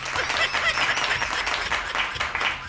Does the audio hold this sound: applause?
yes